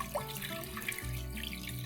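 Water pouring into a cooking pot of mutton and lentils for dal gosht, a steady splashing gush with a few drips, heard close and alone.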